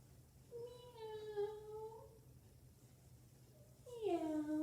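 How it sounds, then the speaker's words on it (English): A kitty cat meows twice, close and clear, each call a drawn-out, wavering cry with a gap between them, over a low steady background hum. "It's a kitty cat."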